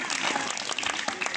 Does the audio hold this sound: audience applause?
yes